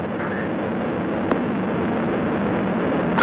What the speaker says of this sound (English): We have booster ignition and liftoff. Liftoff of Discovery, and the shuttle has cleared the tower.